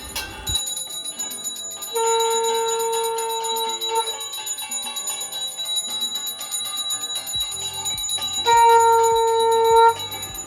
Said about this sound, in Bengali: চারিদিকে শাঁখ বাজে, ঘণ্টা, ঝাঁঝ, কাঁসর বাজে